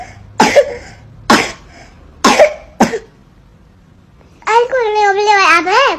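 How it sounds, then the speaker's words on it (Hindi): A young girl gives four sharp, close coughs in quick succession, then babbles in a whiny, sing-song voice. "चलो खांसी हो रही है ना"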